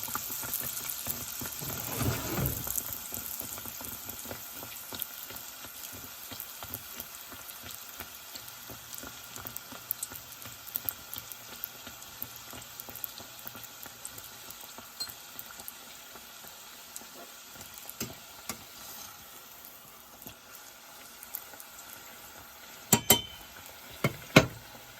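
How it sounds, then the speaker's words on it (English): Crescent dough deep-fries in oil at about 350 degrees, a faint, continuous bubbling sizzle over a long stretch, with a few sharper pops and stirring clinks near the end. "So we'll put it into the oil and just cook it"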